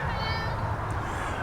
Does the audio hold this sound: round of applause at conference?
no